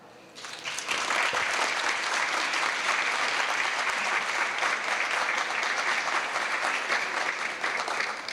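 An audience at a Hispanic Heritage Month celebration applauds to welcome Mayor Byron Brown, a full, sustained round of clapping that swells in quickly and holds steady throughout.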